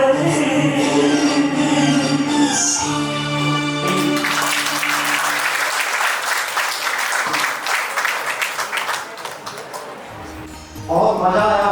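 Loud audience applause breaks out at a community association's 25th-anniversary cultural program in India, a dense sustained wash of clapping that swells after the music ends and fades near the close, with voices briefly at the very end.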